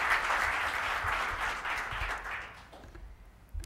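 An audience at a seminar breakfast applauds with sustained, even clapping that softens and tapers off near the end.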